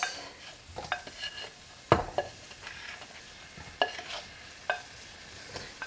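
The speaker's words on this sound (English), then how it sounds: "I'm going to go ahead and add the shallot." Chopped shallot hits hot oil and butter in a pan, giving a soft, steady sizzle broken by sharp clinks and scrapes of a utensil stirring, with no talking.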